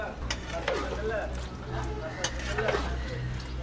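Kala bhuna meat curry, Hanif Mama's Rajshahi style, stirred in a pot with repeated scraping and clinking strokes over a steady low hum, with faint voices in the background.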